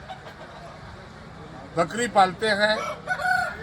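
Rooster crowing at a three-day Tusu fair in Jamshedpur where farmers bring fighting roosters, a loud crow rising after a quiet start and running to the end over a busy crowd, with people talking nearby.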